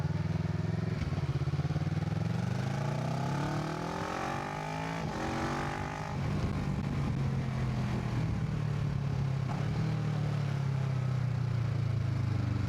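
Kawasaki Versys 650 twin-cylinder motorcycle engine idling steadily close up, dipping and rising in pitch as the clutch is slowly let out, then settling back into a constant rumble.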